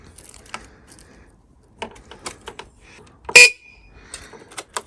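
A single short, sharp beep from the horn of an Aprilia Habana scooter, preceded and followed by scattered metallic clicks and clunks of handling.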